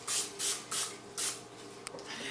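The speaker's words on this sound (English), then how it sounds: "spray it with some Pam" Pam cooking spray spritzed onto a small pan sitting on a food scale: four short hissing bursts in quick succession, close and fairly loud, then a faint tap.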